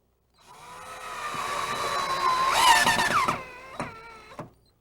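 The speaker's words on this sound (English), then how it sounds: "we'll attach the screw through the anti-tip device and fasten it to the wall" A power drill drives a screw through a gas range's anti-tip bracket into the wall, a close whirring whine that rises in pitch, then cuts off with a couple of short clicks.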